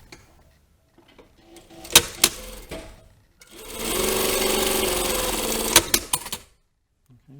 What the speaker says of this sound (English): we need to sew down the sides here. So we're just closing the edge of the pocket.